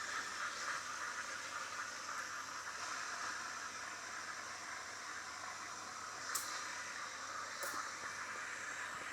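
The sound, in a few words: Delonghi Stilosa espresso machine steam wand hissing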